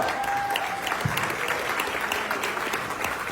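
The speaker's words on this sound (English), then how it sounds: "please put your hands together for her." Audience applause at a leadership award ceremony, a full sustained burst of clapping from a large crowd, steady and loud from start to finish, with a faint voice briefly audible.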